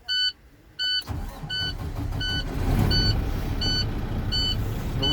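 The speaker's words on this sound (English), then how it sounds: "I will again start my engine and build the maximum pressure for all brake check" A Class A truck engine rumbles steadily as it starts during a pre-trip inspection to build brake air pressure, with a high, regularly repeating warning beep sounding over it.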